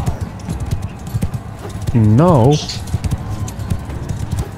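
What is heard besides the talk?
horse galloping hooves in Mount & Blade II: Bannerlord video game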